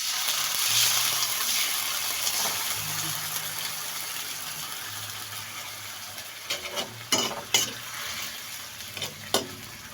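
Sardines sautéing in a frying pan with a steady low sizzle throughout, joined near the end by several sharp clatters of stirring against the pan.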